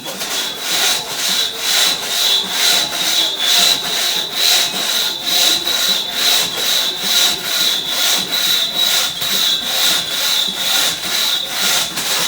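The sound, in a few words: hand sawing an 11-inch white oak log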